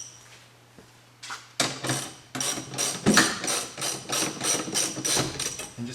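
Ratchet with an 18mm socket tightening bolts during a 2015 Ford Mustang BARTON shifter install, a rapid run of rhythmic clicking strokes, close and fairly crisp, after a quiet start.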